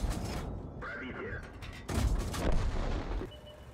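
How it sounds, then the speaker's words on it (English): Valentine II tank cannon firing in a tank video game: two loud, booming shots about two seconds apart, with mechanical rattling and creaking between them. "Just keep a steady aim, and fire away."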